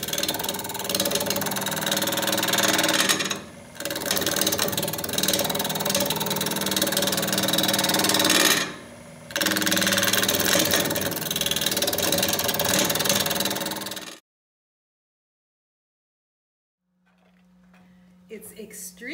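A wood lathe turns a bowl of extremely hard laburnum, a loud continuous rumbling drone with scraping tool noise, stopping twice briefly before cutting off into near silence with a faint hum at the end.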